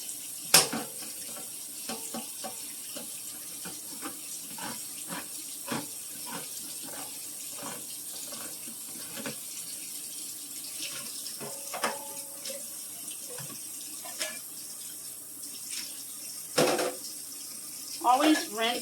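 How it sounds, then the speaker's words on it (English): A kitchen tap runs water over canned sliced vegetables for a potato soup, a thin, faint continuous splash with small clinks of a can or pan, while a voice talks over it. "Always rinse your vegetables from the cans because you don't know how long they've been sitting on the shelves."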